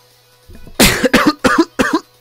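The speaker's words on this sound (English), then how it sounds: "Oh, the coughing is picked up." A run of four or five harsh coughs, loud and close, each a broad burst with short gaps between, starting after a faint throat noise.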